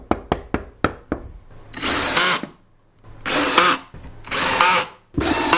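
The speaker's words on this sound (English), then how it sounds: "when I pocket screw it in" A power drill drives pocket screws into a wooden drawer box, first with several sharp, quick knocks and then with three loud, close whirring bursts of a few seconds each, separated by short pauses.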